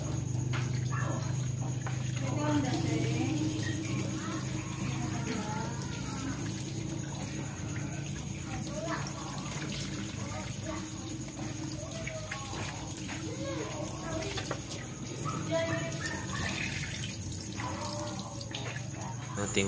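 Fish being rinsed under a running kitchen tap before cooking a tinola, a steady stream of water splashing in a sink throughout, close and fairly even, with faint background noise.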